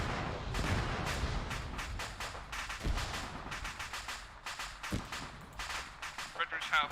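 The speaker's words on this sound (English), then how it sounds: "A lot of explosions to the east. It'll be the cache cooking off." Explosions from a weapons cache cooking off in the ArmA 3 military simulation game, a rapid, irregular series of sharp bangs and cracks with some deeper booms, continuing for several seconds under occasional speech.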